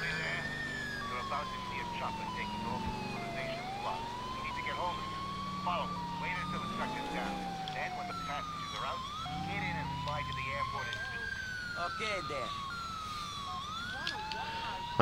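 A police siren wails steadily through a busy Grand Theft Auto IV soundscape, with engine noise, scattered effects and a voice talking over it.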